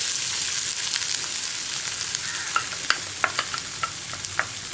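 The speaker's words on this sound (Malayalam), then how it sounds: "അതേ എണ്ണയിലേക്ക് തന്നെ നമ്മൾ കൊത്തിയരിഞ്ഞ് വെച്ചിരിക്കുന്ന ഇഞ്ചി ഇട്ട് കൊടുക്കാം" Finely chopped ginger hisses and spatters in the hot oil left from frying bitter gourd, a soft steady sizzle with a run of sharp spoon clicks from stirring in the second half.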